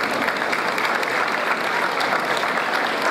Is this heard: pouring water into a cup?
no